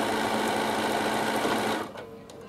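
Bernina sewing machine stitching a produce carry bag, a loud steady rapid whir that runs about two seconds, then cuts off and leaves a fainter hum.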